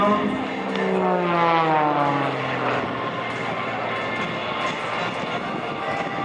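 Jet engine roar from a MiG-29 performing at an air show over Bucharest, a loud steady rush with a descending whine, continuous and fairly close throughout.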